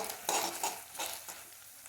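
Roasted onion paste fries in a pan for a chole dish, with soft stirring scrapes and a quiet, steady sizzle that rises in brief bursts as the spoon moves.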